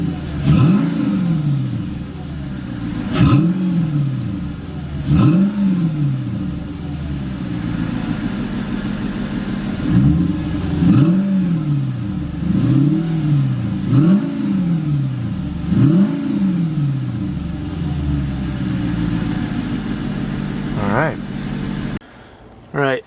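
Mercedes C55 AMG V8 revving in a garage on new spark plugs and coil packs, a handful of sharp throttle blips rising and falling over a steady idle, loud and close, before the engine cuts off abruptly near the end.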